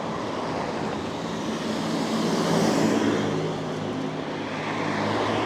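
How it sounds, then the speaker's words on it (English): Steady roar of busy street traffic on the Blackpool seafront, vehicles passing continuously nearby with a broad rushing wash of engine and tyre noise. "sorry about the traffic noise, it's so busy."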